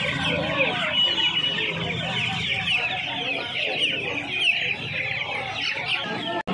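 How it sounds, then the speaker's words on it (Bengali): Many young Australian chicken chicks at a hen market give a dense, continuous chorus of cheeping and clucking, close and loud throughout, with no talk over it. "এখানে প্রচুর অস্ট্রেলিয়ান মুরগির বাচ্চা রয়েছে"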